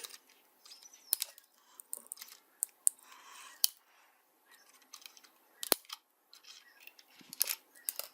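Snips cutting off the excess ends of zip ties on a WLtoys RC car, a series of sharp, quiet clicks and snaps scattered irregularly, close up.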